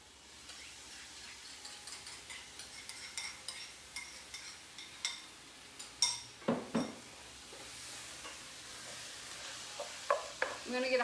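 Cheesy chicken sizzling and caramelizing in a hot skillet, a steady low sizzle broken by clinking utensil scrapes and knocks against the pan, several louder clanks near the end.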